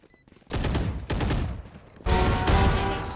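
Rapid bursts of video game gunfire ring out in two loud volleys, dense overlapping weapon shots with a short lull between, played close and without talk.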